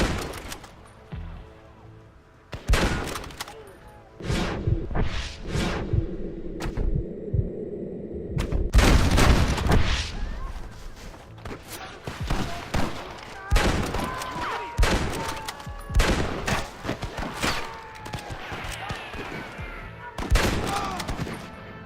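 Rapid gunfire from Western-era firearms in a Red Dead Redemption gunfight, with repeated sharp shots and volleys scattered throughout amid game sounds and occasional voices.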